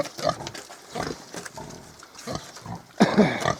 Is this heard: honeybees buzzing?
no